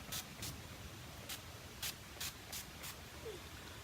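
Face setting spray hisses from a bottle in about seven short, sharp bursts at an uneven pace, close and fairly quiet over a soft background hiss.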